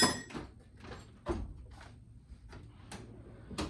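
A large drawer on a garage workshop tool chest rolls open, followed by several more sliding clunks and thuds in a loose sequence, close and moderately quiet with no speech.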